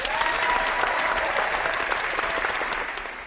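Steady, dense audience applause at a large public event, loud and sustained for about three seconds before starting to fade.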